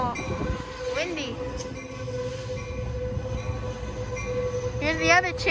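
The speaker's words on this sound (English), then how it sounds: "Here's the other train at this train meet. Surfliner." An Amtrak Surfliner train pulls into Fullerton Station, with a loud steady rumble, rail squeal and wavering horn-like tones near the start and end. Wind noise and voices are mixed in.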